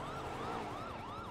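An emergency vehicle siren in a role-play video game, a steady rising and falling wail that cycles about three times, loud and continuous with no talk.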